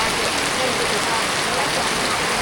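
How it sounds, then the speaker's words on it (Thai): Steady, dense rain hisses continuously across the whole stretch, close and fairly loud, with no pauses or other distinct sounds standing out. "ฝนตก"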